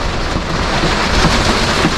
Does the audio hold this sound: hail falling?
yes